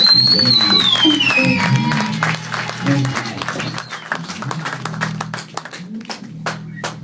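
A church congregation applauds for God during a service: a crowd of hands claps in a dense, lively patter under a voice and a high whistling tone, and the claps grow sharper and more distinct as it goes on.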